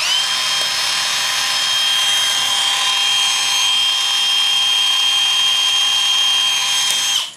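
A Hilti SD 5000 A22 cordless drywall screwdriver runs in reverse, a steady, loud high-pitched motor whine holding one constant tone for the whole stretch before cutting off at the end.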